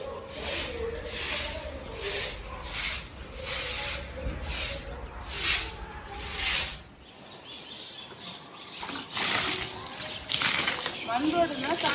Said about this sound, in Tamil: தண்ணி ஊற்றி விடு.